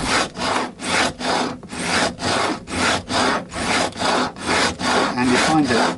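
A file stroking and bevelling fret ends on a Fender Lite Ash Telecaster during a re-fret, giving steady rasping strokes about every half second, close and loud with no talking.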